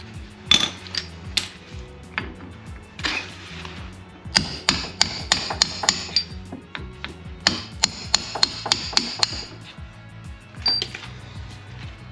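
Hammer blows knocking the centre out of a rear trailing arm bush on a Mk1 Audi TT, sharp metallic strikes in irregular bursts and quick clusters with ringing metal, close and loud, no talking.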